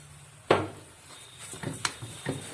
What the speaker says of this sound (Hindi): देखिए अभी ये घी छोड़ने लगा है कढ़ाई, तो इसमें चीनी मिक्स कर देंगे।